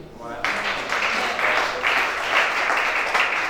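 A church congregation bursts into sustained applause during a worship service in Gabon, a dense wash of clapping that starts abruptly after a quiet moment and rolls on steadily, swelling slightly in waves.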